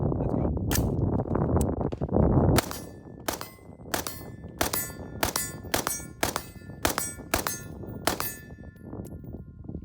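A rifle fires ten rounds of mixed brass and steel-case ammo, sharp loud cracks in a quick uneven string with metallic ringing, a rumble of handling noise before the first shots.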